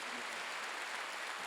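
A church congregation at a Wednesday worship service applauds, a soft, even patter of many hands heard from a distance.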